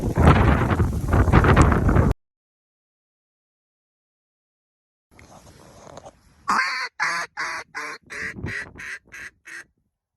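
A flock of about thirty green-winged teal circles overhead on a windy November day, giving a run of sharp, rhythmic quacking calls. Strong wind buffets the microphone at the start, followed by a quiet gap before the calls begin.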